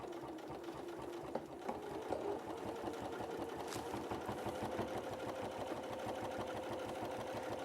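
Sewing machine stitching along the edge of a butterflies and blooms quilt, a fast, even mechanical chatter running steadily and close throughout at a moderate level.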